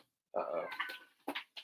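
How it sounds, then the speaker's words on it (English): A pet cat lets out a long, drawn-out yowl up close, followed by a couple of shorter sharp cries in quick succession. "My cat's going crazy. Do you hear her?"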